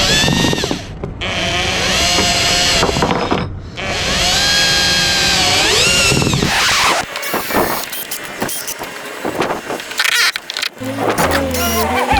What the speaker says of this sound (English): So now I gotta drill out this thing.